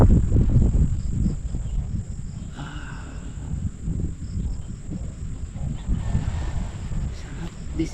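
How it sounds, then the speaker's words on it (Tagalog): Crickets chirp steadily around a quiet night campsite in Bulacan during solo motorcycle camping, a continuous high insect trill above a low rumbling background, with faint other noise mixed in. "Marinig mo lang yung mga kuliglig."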